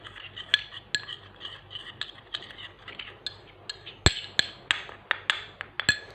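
A spoon stirs a pink organic face mask mixed with water in a small container, tapping and clinking against its sides in quick, irregular strokes, close and fairly quiet.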